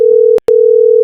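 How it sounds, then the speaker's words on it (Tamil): A telephone signal sounds loudly and close, a steady electronic tone broken once by a brief gap before resuming, with no voices over it. "அந்த ஆள் வேற போன் அடிக்கிறான்டா"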